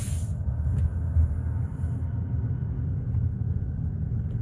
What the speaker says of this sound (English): See, you barely can hear the engine.